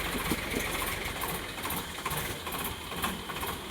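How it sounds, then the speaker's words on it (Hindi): Two tractors run together on a farm, their engines giving a steady, loud, rumbling idle with a fast mechanical chatter throughout, close by and without talk. "फाइनल दोस्त हमारे दोनों ट्रैक्टर चालू हो गए हैं।"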